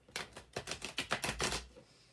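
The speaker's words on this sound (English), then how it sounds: "let me shuffle one more time." A deck of cards is shuffled up close, a rapid run of crisp riffling clicks lasting a couple of seconds, with no talk.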